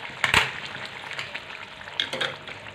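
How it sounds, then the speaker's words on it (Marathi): A spice masala tempering sizzles as it is sautéed in oil for a green field bean curry, a steady close frying crackle broken by a few sharp scraping stirs of a spoon against the pan. "या मसाल्यांना तेल सुटेपर्यंत परतून घ्यायचं आहे।"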